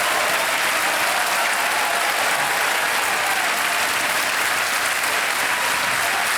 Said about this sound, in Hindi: तालियां बज जाए जोर से